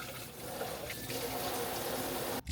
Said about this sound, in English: Let's wash this bottle